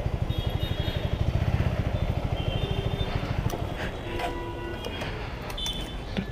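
A motorcycle rides up and parks outside an electronics shop, its engine chugging loudly and steadily up close, then slowing to a rougher idle with some clatter as it settles.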